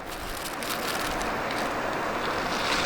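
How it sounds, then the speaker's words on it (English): Strong wind on a beach roars and buffets steadily against the microphone, loud and constant, with no voices. "It's getting windy."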